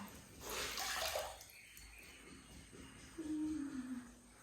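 Water sloshes and splashes briefly, then after a pause a second burst of splashing follows, fairly quiet and close, with no speech.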